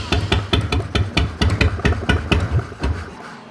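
A Harley-Davidson motorcycle engine with a newly welded dual exhaust runs close by, its loud, uneven loping pulses thumping at a quick idle rhythm throughout with no talk.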